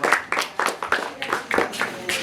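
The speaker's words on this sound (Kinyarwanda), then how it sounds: "tukomera amashyi" An audience clapping in a steady rhythm of spaced claps, fairly loud and close, with voices mixed in.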